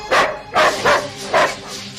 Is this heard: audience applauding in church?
no